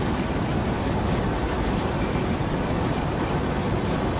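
Constant dense mechanical roar inside a train's engine room in the video game Process, steady and loud with no pauses or voices.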